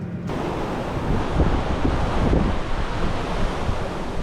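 Steady roaring wind buffets the microphone over the wash of open water, a continuous loud rush without any voices.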